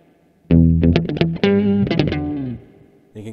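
Electric guitar played through a Walrus Audio Luminary octave pedal with reverb, a short funky riff of several bright, thick octave-doubled notes that ring out and trail into a reverb tail, with a new note starting at the end.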